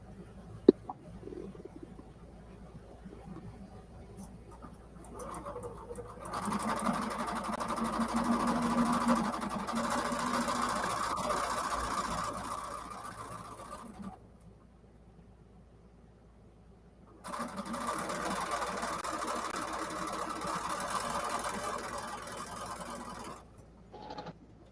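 A sewing machine chain pieces patriotic quilted placemats in two long, steady whirring runs separated by a quieter pause, with low room noise throughout.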